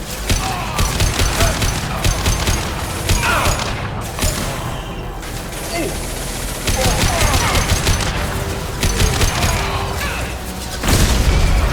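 Heavy gunfire and mechanical clatter from combat in Mass Effect 2, dense rapid bursts with booming impacts, loud and continuous with brief lulls, no voices over it.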